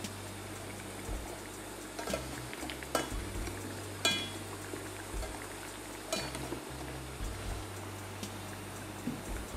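Shallots fry in hot oil in a pan for a black bean rice, a quiet, steady sizzle broken by a few sharp crackles and pops.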